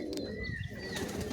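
A brief, soft burst of low cooing from giribaz pigeons at a breeder's house, heard close over faint background whistles and chirps.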